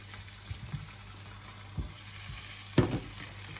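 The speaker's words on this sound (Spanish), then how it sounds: "Vale, momento de echar la sidra." Cider poured into a hot frying pan with oil, giving a steady low sizzle and frying hiss with a few soft splashes and stirring knocks, close and fairly quiet.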